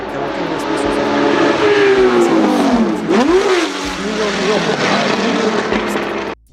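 Porsche flat-12 racing car engine roaring loudly and steadily, with a pitch sweep dipping and rising midway as it passes or revs, then cut off abruptly at the end.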